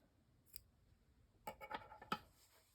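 Scissors snip a yarn tail during crochet work, giving a few crisp, close clicks in a quiet room with a small cut near the start and a cluster of sharper snips later.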